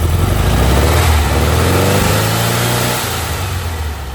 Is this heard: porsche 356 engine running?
yes